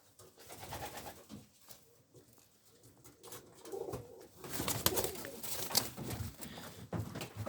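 Pigeons coo softly in a breeder's loft in Dundee, Scotland, their low burbling calls repeating under shuffling movement and faint background voices.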